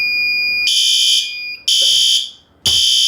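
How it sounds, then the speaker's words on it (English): A home garage fire alarm, set off by the sprinkler system's flow switch, sounds in loud, piercing electronic tones that cut in three times with short gaps between, close and dominant over faint background noise. "That trips the flow switch."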